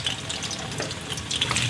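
Potatoes deep frying in hot oil for dum aloo, a steady close bubbling sizzle with scattered crackles throughout, no voices.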